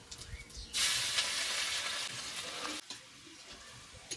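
Garlic and radhuni spice hit hot oil in a pan for a prawn and kochur loti fry, setting off a sudden loud sizzle that holds for about two seconds before cutting back to a softer, steady crackle.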